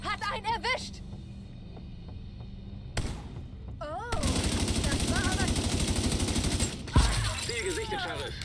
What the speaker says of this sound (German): Oh, von hinten werde ich beschossen.